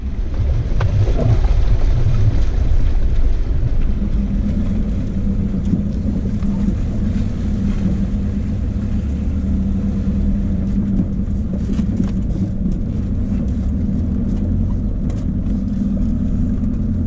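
A 4WD vehicle crossing a river in the Victorian High Country, heard as a steady low engine rumble mixed with water churning and wind buffeting the microphone, continuous and close throughout.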